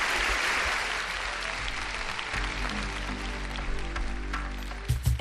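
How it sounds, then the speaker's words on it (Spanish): A television studio audience applauds loudly and densely at first. The clapping then thins and softens as a sustained tonal sound rises underneath, with a few louder knocks near the end. "Os pido un aplauso mientras llega la siguiente invitada."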